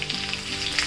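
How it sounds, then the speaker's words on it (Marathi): Cumin, garlic, grated ginger and curry leaves frying in hot oil give a loud, steady crackling sizzle with sharp spitting pops throughout, close up and with no voices. "थोडी जिरी घालायची, लसूण घालायचा, अद्रक किसलेलं घालायचं, थोडा कढीपत्ता टाकायचा"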